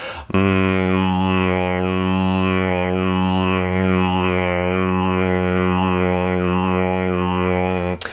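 A sustained, resonant nasal hummed tone made while chewing and moving the tongue, as a vocal warm-up, with the pitch sliding and wavering continuously, steady and close, with no talking.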